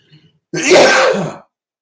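A single person's sneeze erupts as one loud, close burst lasting nearly a second, preceded by a brief faint breath and followed by quiet.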